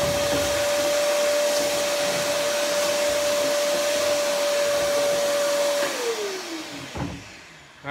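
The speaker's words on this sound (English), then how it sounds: "I'm vacuuming on both sides of the screen, going horizontal, vertical." A vacuum runs with a steady high whine and airy rush while drying a screen, then its pitch drops as it winds down near the end.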